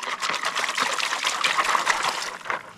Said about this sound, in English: So all that freshly melted snow is now river water and it's cold